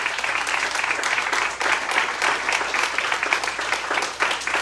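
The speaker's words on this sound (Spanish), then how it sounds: "Dale un fuerte aplauso al que vive." A church congregation bursts into strong, sustained applause during a Spanish-language sermon, with dense clapping from many people filling the space steadily throughout.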